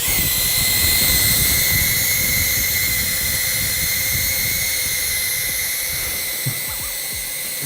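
A Snap Pixy drone flies close by, its small rotors giving a steady, loud high-pitched whine and hiss that holds evenly and eases slightly near the end.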